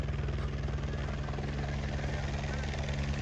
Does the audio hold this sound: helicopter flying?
yes